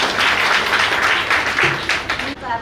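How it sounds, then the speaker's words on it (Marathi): Applause at a sixty-first birthday celebration (Ekasashti ceremony) in a hall, dense and sustained across the whole stretch, with voices mixed in beneath the clapping. "तर त्याच्यासाठी पण एकदा टाळ्या होऊन जाऊ द्या"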